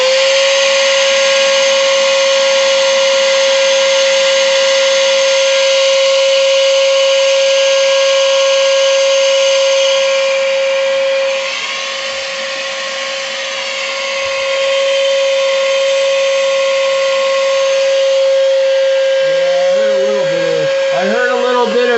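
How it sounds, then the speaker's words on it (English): Vacuum cleaner running steadily, sucking debris out of a DIY clothes dry cleaner near its heating element, a loud continuous whine with a strong tonal hum that wavers briefly midway. "I did hear a little bit of debris suck up"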